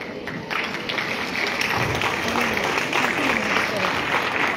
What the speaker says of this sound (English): give big round of applause and welcome our